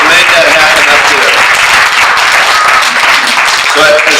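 An audience claps loudly and continuously for a representative at a public speech in El Paso. The dense applause fills the whole stretch without letting up.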